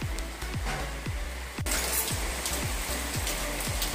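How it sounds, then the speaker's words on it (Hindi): Heavy rain pours steadily during an October storm, a dense close hiss with repeated low thumps and knocks running through it, and no voices. "आपको वॉइस तो आ रही होगी बारिश की, कितनी बारिश हो रही है।"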